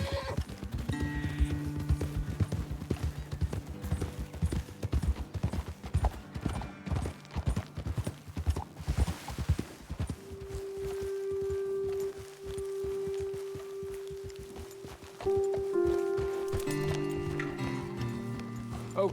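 Several horses walk over hard ground, hooves clip-clopping in a steady, uneven rhythm for about ten seconds before fading. Sustained tonal music plays underneath and grows louder in the second half.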